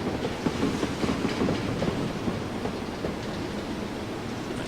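Austerity saddle-tank steam locomotive running on rails on the Maerdy route in Train Simulator 2016: a steady, close rolling rumble with faint rhythmic clicking of wheels over rail joints, with no talk.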